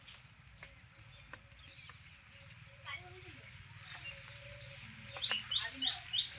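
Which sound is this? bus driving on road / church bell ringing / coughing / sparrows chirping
sparrows chirping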